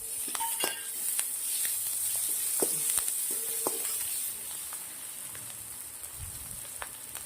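Finely chopped tomato frying in a hot tempering of spices, kasuri methi, red chili and curry leaves for an Afghani-style baingan masala, giving a steady close sizzle with scattered sharp clinks and scrapes of a spoon.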